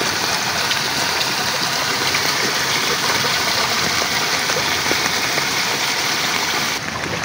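Loud, steady rushing of floodwater flowing over a road, a continuous broad roar without pause, close by.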